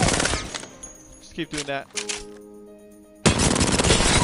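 Rapid automatic gunfire from the Apex Legends video game sounds in two loud bursts at the start and end, and someone speaks briefly in the quieter gap between them.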